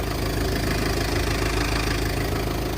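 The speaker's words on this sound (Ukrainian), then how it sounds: "таке трошки турбіна підсвищує, але надув йде нормальний" A Volkswagen Passat B6 turbo engine runs nearby in a loud, steady, dense drone, its turbo said to whistle slightly, with no talk.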